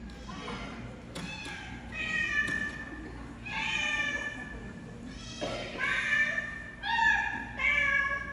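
Cats meow repeatedly on stage during a musical theatre performance, several drawn-out, near meows rising and falling across the stretch with thumps and a low room rumble beneath.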